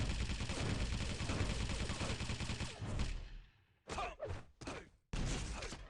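Rapid, dense gunfire from a Quake 3 match hammers continuously for about three seconds, then breaks into a few separate loud bursts with short silent gaps between them.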